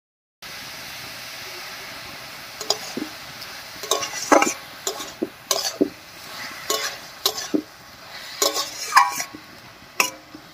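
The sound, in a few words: stir-frying banana stem with spice paste and water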